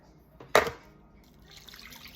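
A brief splash of water poured into southern dressing mix, one quick gush near the mic that fades into quiet with faint trickling afterward.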